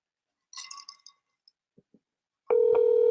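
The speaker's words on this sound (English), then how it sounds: "It's ringing." Ringback tone of an outgoing phone call, a steady loud electronic tone starting abruptly after some faint clicks and rustling, heard alone with no voices.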